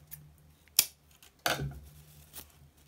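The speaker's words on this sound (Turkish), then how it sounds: "İpi kesiyorum." Scissors snip through yarn on a crocheted paper-yarn summer bag, a few crisp close cuts with a sharp click and a louder snip, quiet between them.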